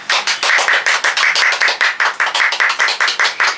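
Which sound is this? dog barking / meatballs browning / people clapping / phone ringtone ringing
people clapping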